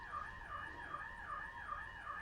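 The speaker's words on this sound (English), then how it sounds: "we have an alarm going off next door" An alarm sounds from next door, a faint, distant wailing tone that rises and falls in a steady, repeating sweep, with no one speaking.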